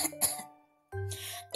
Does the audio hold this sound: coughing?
yes